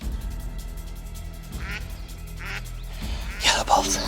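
Yellow-billed ducks quack in the wild in South Africa, several short raspy calls scattered and growing louder toward the end, mixed with low wind rumble and a voice talking over them.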